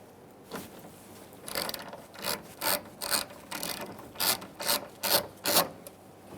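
A hand ratchet loosening the last nut holding a Ford E-350 Super Duty side mirror: a rapid series of close, crisp clicking strokes in a steady rhythm.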